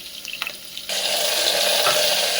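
Onion and tomato hit a hot pan and break into a loud, continuous sizzle after a moment of light clatter, frying steadily to the end.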